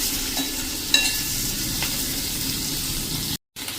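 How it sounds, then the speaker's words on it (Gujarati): Capsicum sizzles steadily in a pan over full flame with occasional stirring scrapes. A continuous close hiss of frying runs throughout, then cuts out briefly near the end. "હવે આને ફૂલ ફ્લેમ કરી અને 2 મિનિટ આ રીતે આપણે કેપ્સિકમ મરચાંને કૂક કરી લઈશું"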